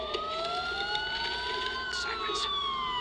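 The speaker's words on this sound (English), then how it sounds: "Sirens. The police." Police sirens wail with rising and falling tones, several overlapping, steady and fairly loud against a background hum of traffic.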